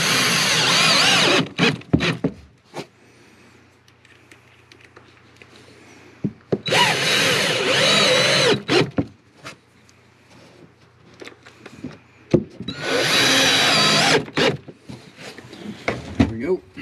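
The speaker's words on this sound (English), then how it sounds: "We're going to use the screw gun. Put a couple screws to hold them in place well." A screw gun drives screws into concrete pieces during a toilet repair, with three loud, whirring bursts lasting one to two seconds each, separated by quieter gaps with light clatter and handling noise.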